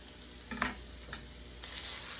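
Garlic sizzles in a hot frying pan, a steady close crackling hiss with a few soft scraping taps as it is stirred, and no voice.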